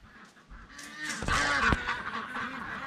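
A hen in a workshop squawks and clucks while laying an egg, a run of loud, harsh, harmonic calls that peaks in the middle of the stretch, close by over a faint background.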